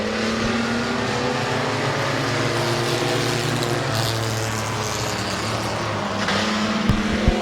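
Race cars battling for the lead at Midvale Speedway, engines droning steadily at close range with shifting revving pitches as several cars run together through a turn.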